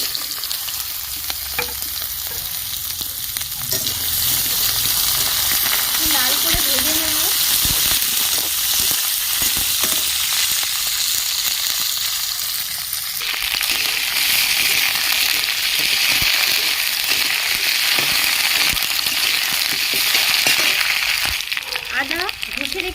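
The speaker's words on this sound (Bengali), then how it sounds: "তেল গরম হয়ে গেছে আমি ফোড়ন দিয়ে দিচ্ছি সব সবজিগুলো আমি দিয়ে দিচ্ছি" Vegetables and tempering spices hit hot oil for daliya khichdi and fry with a loud, continuous sizzle and crackle, with some stirring noise that rises and falls throughout.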